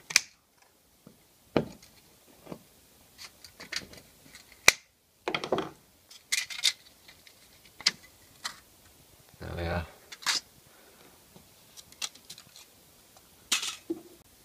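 Broken cells are cut off a homemade cheap solar panel, producing scattered sharp snips and clicks at irregular intervals, fairly close but quiet, with brief handling rustles between them.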